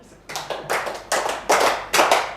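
A class claps hands in counted groups during a microteaching lesson, with a burst of several fast, overlapping claps forming dense clusters that recur in an uneven rhythm, loud and close and free of speech.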